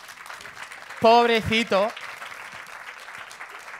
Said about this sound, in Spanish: Creo que se merece un fuerte aplauso